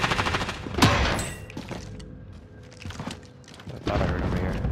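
Gunfire in the battle royale game Warzone crackles in bursts, with a sharp nearby shot followed by scattered distant reports and a louder volley of rapid shots near the end.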